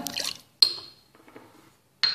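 Orange blossom water is poured into cake batter ingredients of melted butter, sugar, egg and salt, giving brief liquid splashes and a glassy clink, separated by quiet gaps with no talk.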